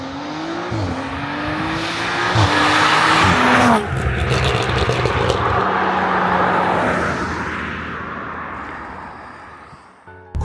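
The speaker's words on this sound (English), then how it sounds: "launch at high revs" Stage 3 twin-turbo Audi RS4 tuned to about 700 bhp launching hard at high revs, engine note rising in steps through quick gear changes with a loud, sustained roar that fades as the car pulls away.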